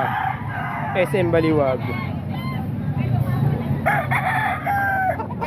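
Two bulik roosters, about seven months old, crow at a weekend market in Baliwag, Bulacan, with a couple of distinct crows rising over steady crowd chatter and talk nearby.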